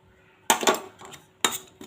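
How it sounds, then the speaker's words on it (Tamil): Fried cashews and raisins tipped into white pumpkin halwa, two bright clinking clatters of nuts and a spoon against a metal pan, close and loud with a short pause between. "நம்ம வறுத்து வச்ச முந்திரி திராட்சை இப்போ சேர்த்துக்கலாங்க."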